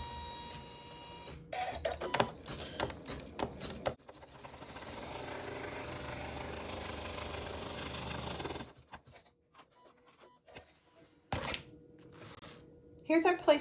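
An embroidery machine stitches a placement stitch with water-soluble thread for a napkin project, a steady mechanical whirring hum for several seconds, framed by clicks, handling and brief talk before and after.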